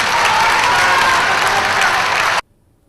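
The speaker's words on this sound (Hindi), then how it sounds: "सामने बैठे पटवारियों ने मारे नारे और मारी तालियां।" An audience of patwaris seated in a hall, loud, dense applause with crowd noise and possible chanting that holds steady, then cuts off abruptly near the end.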